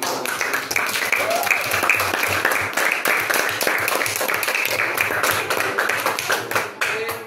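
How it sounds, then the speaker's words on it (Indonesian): A classroom group applauding after a presentation at a teaching session, dense, steady clapping from many hands at close range, sustained for several seconds before tapering off. "Kita beri aplaus untuk"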